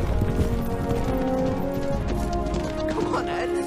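Horse hooves gallop in a fantasy film battle scene, a dense, continuous drumming mixed with a loud orchestral score and film voices.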